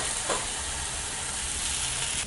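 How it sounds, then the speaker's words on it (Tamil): Set dosa batter hits a hot pan and sizzles steadily, a loud close crackling hiss that holds evenly throughout with no talking. "இப்போ நம்ம செட் தோசை ஊற்றிக்கலாம்."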